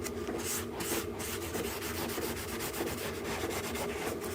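Oil and beeswax are rubbed by hand into walnut and maple wood, a steady close scrubbing friction with rhythmic back-and-forth strokes and no voices.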